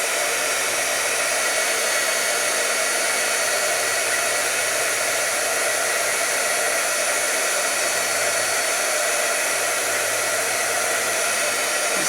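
A heat gun blows hot air onto a craft card in a steady, loud, broadband hiss that holds unbroken for the whole stretch, with no voices.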